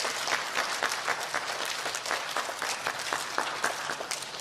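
Audience of children and adults clapping for students at an elementary school recognition ceremony, a short burst of dense, steady applause from a room full of people.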